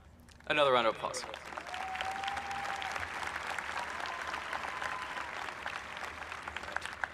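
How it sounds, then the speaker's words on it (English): Graduation audience applauding in a large hall, a sustained, even wash of many hands clapping at moderate distance for several seconds, with a brief burst of talk at the start. "Another round of applause."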